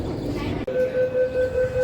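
Navi Mumbai metro train running on its line between Belapur and Pendhar stations, a steady rolling rumble with a sustained tonal whine rising in after a brief dip, continuous and close.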